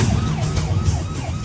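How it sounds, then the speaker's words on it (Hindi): An ambulance siren wails in a jammed road scene, its rising and falling tone repeating steadily over a loud, dense rumble of traffic and street noise. "इधर लो, एम्बुलेंस को यहाँ से निकालो।"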